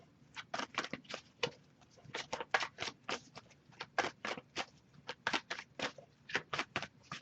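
A deck of tarot cards is shuffled over and over, producing rapid crisp riffling bursts in a steady, close rhythm with brief pauses between them and no talking.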